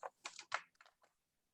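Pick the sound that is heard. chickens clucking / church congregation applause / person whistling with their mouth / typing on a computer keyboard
typing on a computer keyboard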